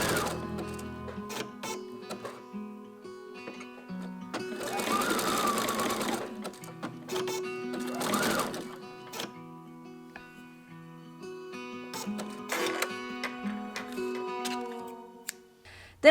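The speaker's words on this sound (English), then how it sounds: "I'll finish just by sewing a few zigzag stitches back and forth along the join." A sewing machine runs zigzag stitches back and forth along a lace join in several short, rapid ticking bursts separated by quieter pauses, close and fairly soft.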